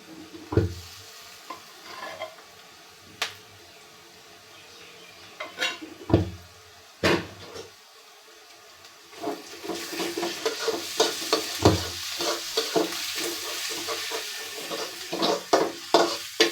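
Garlic paste and green chili paste frying with onions in a pan, sparse spoon clanks against the pan at first, then busier stirring and scraping over a growing sizzle; no one speaks.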